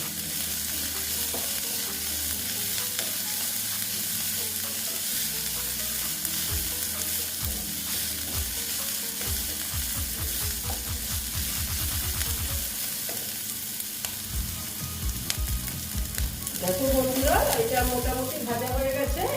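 Snake gourd with chopped green chillies and ginger fries in a pan, producing a long steady sizzling hiss with repeated scraping stir strokes and occasional dull knocks, close and moderately loud.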